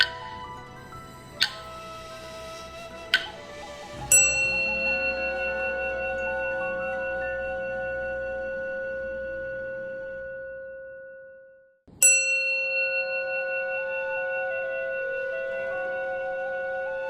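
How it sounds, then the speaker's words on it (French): Three strikes of a gong or bell signalling the start of zazen meditation in a Zen temple: two soft taps, then a loud ringing stroke that decays slowly, followed by another full strike ringing out. "Comme signal de début du zazen, 3 coups de gong ou de cloche retentissent."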